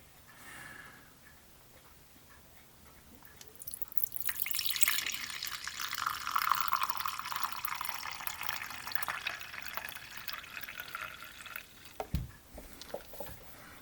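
Liquid poured into a container during model ship building, a soft steady trickling and splashing lasting several seconds, quiet and close, with a small knock near the end.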